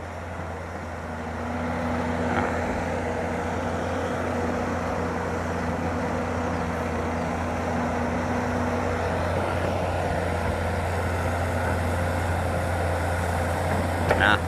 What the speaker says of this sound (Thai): โกเบลโก เครื่องยนต์หกสูบไดเรกินเจคชั่นเทอร์โบพี่น้อง มิตซูบิชิ 6B31